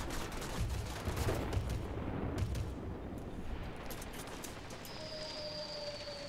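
Aircraft guns fire in World of Warplanes during a low ground-attack run by the NC 1070, a dense rattling burst over a steady engine drone, easing into engine noise alone near the end.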